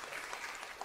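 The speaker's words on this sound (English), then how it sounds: "please give them a round of applause" An audience applauds conference volunteers at an environmental justice gathering, a faint, even wash of clapping from a distant crowd over a short moment.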